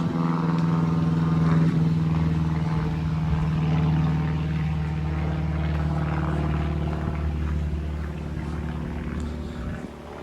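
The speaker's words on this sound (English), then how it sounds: "Apart from that airplane." An airplane passing overhead at a quiet, deserted hilltop spot gives a steady, loud low drone lasting the whole stretch, easing off slightly toward the end, with no talk.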